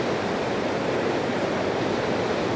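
Floodwater surges after a cloudburst in Himachal, a loud, continuous broadband roar of rushing water that stays steady throughout with no voices over it.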